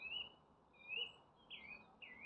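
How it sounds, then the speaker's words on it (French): Small birds chirp and tweet in short high phrases in a forest by a lake in late winter, fairly faint, over a soft outdoor background hiss, with a few bursts spaced through the clip. "on peut déjà entendre, et c'est pas encore le printemps, des petits chants d'oiseaux"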